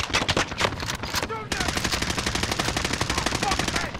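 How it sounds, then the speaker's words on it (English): Rapid automatic gunfire in a video game, dense bursts of shots with a brief gap before a sustained stream of fast rounds, loud and close. "somebody was shooting at him"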